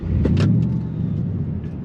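The supercharged 5.4-liter V8 of a 2000 Ford F150 SVT Lightning pickup fires up with a short crank and a loud, close bark that settles into a deep, steady rumble.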